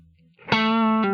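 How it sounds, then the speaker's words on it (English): A synth tone played through the Atmospheres one-knob ambient reverb plugin by Zak Sound swells into a bright, harmonically rich, sustained sound, loud and alone, with a second attack just before the end. "This is the Atmospheres, only 1 knob, and it will give you amazing textures of ambient and reverb sound"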